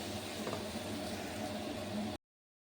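Spice paste frying in a pan for ridge gourd and pabda fish gives a steady, close sizzle for about two seconds before cutting off abruptly.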